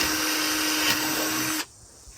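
A power drill bores into a drum shell during a drum rebuild, a steady close whine with a grinding edge that stops abruptly near the end.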